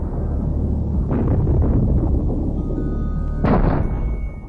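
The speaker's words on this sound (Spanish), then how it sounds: "El arma realiza 108 disparos en menos de un segundo." A rapid-fire gun fires a burst of 108 shots in under a second, heard as a dense, roaring, continuous blast that swells loudly with a sharp surge near the end, with no voices.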